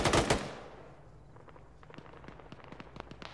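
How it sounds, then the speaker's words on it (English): A BTR armored vehicle fires its gun in a video game: a loud burst opens, then a string of distant sharp shots pops irregularly and fainter. "Some kind of BTR or something shooting down."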